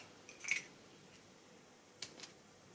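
Small scissors from a crochet kit handled close by, a quick cluster of faint metallic clicks followed later by two more light snips in a quiet room.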